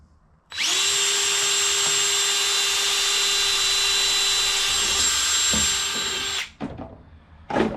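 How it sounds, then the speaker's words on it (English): Power drill boring holes while building a shrimp gun: a steady high whine that starts abruptly, runs unbroken for about six seconds, then stops, followed by a few short handling knocks and rattles. "Now we need to drill 2 holes here,"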